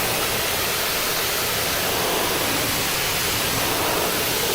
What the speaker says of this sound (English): the pressure washer is doing a lot of the work